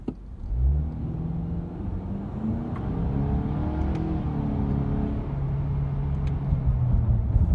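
A 2017 Honda Accord Sport pulls away hard from a standstill, its engine note climbing through the revs with a brief dip as it shifts, then pulling steadily again, loud and close from inside the car.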